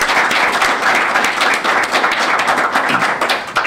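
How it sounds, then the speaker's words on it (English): Crowd at a chamber of commerce mayoral forum applauding four candidates: loud, dense, continuous clapping close by, with no lull across the few seconds. "So I'd like to offer a round of applause to the four candidates today."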